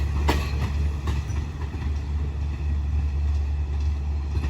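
Thai passenger train number 86, 19 cars long, rolls past at night near Surat Thani with a steady, loud rumble and rhythmic clickety-clack of wheels on rails, continuous throughout.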